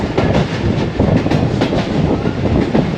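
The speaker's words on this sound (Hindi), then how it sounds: "काफ़ी स्पीड पकड़ लिया अब ट्रेन ने।" The 33UP Pak Business Express runs through Dera Nawab Sahib station near Ahmadpur Sharqia at speed, a loud, steady rumble close by with quick rhythmic wheel clatter throughout.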